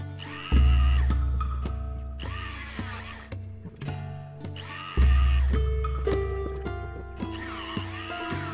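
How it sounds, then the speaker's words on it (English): A small rotary tool polishing an ox horn ring whines in two bursts, starting up sharply and slowing with a falling pitch, close and loud. "back to spinning, so I can polish it up, get a nice finish on the stone"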